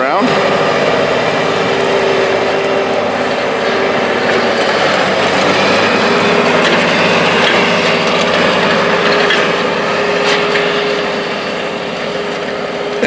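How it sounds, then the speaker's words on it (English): A John Deere tractor's steady, loud engine drone runs throughout while plowing and turning in a field, with a constant hum and rough mechanical texture, easing slightly near the end. "this tractor skips every other pass as it's plowing, so we can see it looping back in here as it turns around"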